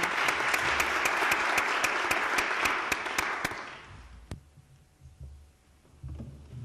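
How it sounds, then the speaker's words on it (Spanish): Audience applause at a Spanish-language colloquium on social learning: a dense burst of clapping for about three and a half seconds, then quickly fading to a quiet room with a few small knocks. "Con un aplauso."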